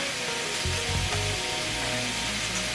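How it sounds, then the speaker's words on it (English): Steady, hissy sizzling fills the clip as sausage fries in a hot pan, with faint low clunks underneath. "Hear that sausage sizzling away."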